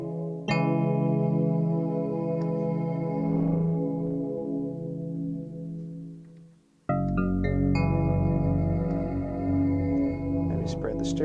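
Eventide UltraTap delay running as an iPad app, with added taps turning sustained tones into shimmering, echoing layers. One chord rings and decays, then a second loud chord hits with bright repeating taps.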